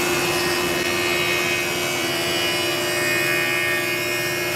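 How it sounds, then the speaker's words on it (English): A planer flattens a figured wild cherry slab, giving a loud, continuous mechanical whine and rushing cut that holds steady the whole time, alone with no talking. "So a couple passes through the planer"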